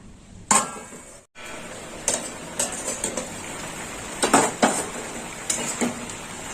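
A metal lid set onto a cooking pot of potatoes and drumstick stalks in water, giving a few sharp clinks and taps spread over several seconds, close and fairly loud against a quiet kitchen background.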